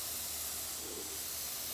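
An airbrush sprays black paint onto a baseball helmet, a close and steady hiss of air lasting under two seconds.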